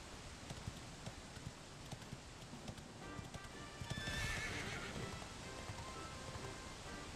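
A horse in the Dragon Quest XI video game whinnies and its hooves clip-clop steadily, with a neigh rising midway over a constant background wash and no talking.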